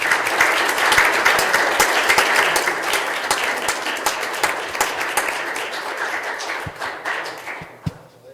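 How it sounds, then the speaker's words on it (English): Sustained round of applause from a crowd at a township trustees meeting, honoring local sons and daughters, dense steady clapping close by that gradually thins and fades out toward the end. "Let's have a round of applause."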